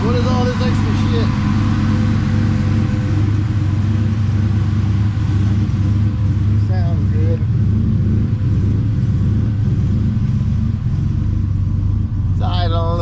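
A VMP Odin supercharged Ford F150 engine idles roughly and unevenly on its first start, a steady low rumble running throughout with a voice speaking briefly over it.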